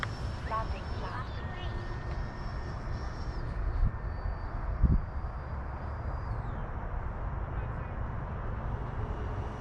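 An FMS Futura 80mm electric ducted-fan RC jet making a flyby: a steady, rushing whine that holds at constant loudness, with a faint pitch sweep as it passes, and outdoor wind noise underneath.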